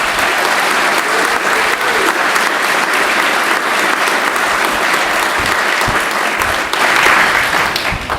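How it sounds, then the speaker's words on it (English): Sustained applause from a large crowd at a school graduation, steady and dense clapping throughout, with a slight swell near the end. "Let's give you a big round of applause."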